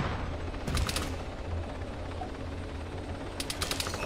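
Gunfire in the Arma video game, with two short bursts of rapid shots, one near the start and one at the end, over a steady droning engine hum with no one talking.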